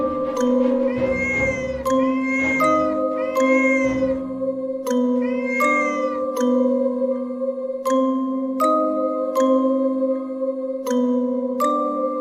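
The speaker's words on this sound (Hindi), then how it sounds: "ये बिल्ली की आवाज कहाँ से आ रही है?" Cartoon cats meow repeatedly in an animated comedy, loud, close and drawn-out, with a series of short, sharp plinking tones in the later half; no talking.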